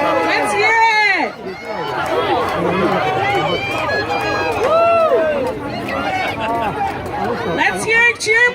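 Crowd at a San Mateo Fair pie eating contest in 2016, cheering and shouting encouragement as contestants eat, a dense continuous babble of many excited voices with a whoop or two standing out near the start.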